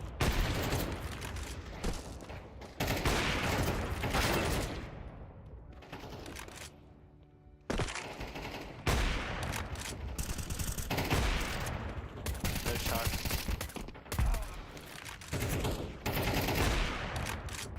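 Counter-Strike 2 gunfire in rapid bursts and sustained automatic volleys, loud and dense, with a brief lull midway before the shooting resumes heavily.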